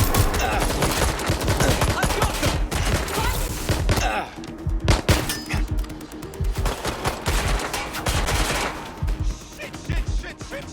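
Heavy automatic gunfire in the video game Watch Dogs Legion, bursts of rapid shots rattling loudly with thuds mixed in and brief pauses between volleys.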